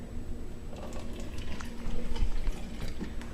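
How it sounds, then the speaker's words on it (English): White vinegar is poured into a measuring container as a soft, steady liquid trickle with faint splashing, close but quiet over low background hum. "So I'm going to first just pour a little bit of vinegar and see where we get"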